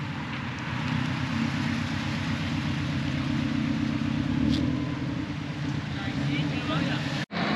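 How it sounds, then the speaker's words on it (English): A red Toyota and a black Subaru pulling in at a Japanese classic car show, giving a steady low engine rumble at moderate distance with no clear revving. "We have a red Toyota and a black Subi now pulling in."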